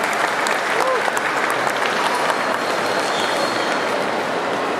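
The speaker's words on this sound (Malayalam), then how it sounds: "please give Sajid A big clap," An audience applauds the film's director at a Malayalam film event, a dense, continuous wash of clapping from a large crowd, steady and fairly loud throughout.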